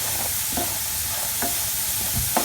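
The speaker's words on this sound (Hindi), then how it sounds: "ये देखें आलू हमारे माशाल्लाह से बहुत ही अच्छे तरीके से फ्राई हो चुके हैं।" Potatoes fry in oil for a Spanish omelette, a steady close sizzle and crackle with a few soft stirring knocks spread through it.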